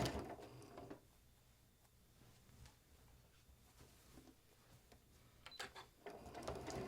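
A Janome sewing machine stitches through quilt fabric with a walking foot, giving a faint, steady mechanical whir and ticking in a quiet room.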